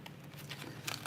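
Tarot cards shuffled by hand, a steady soft papery riffling and crinkling that runs continuously at close range, with no talk.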